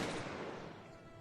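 Volleys of musket and cannon fire from a Cossacks 2 video game battle on the Iberian Peninsula. The dense, noisy roar starts loud and slowly fades over about a second, with no voices.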